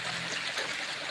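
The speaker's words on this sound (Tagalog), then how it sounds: "Look at the river." Clear river stream flowing steadily, a continuous broadband rush and trickle of water heard close by with no voices.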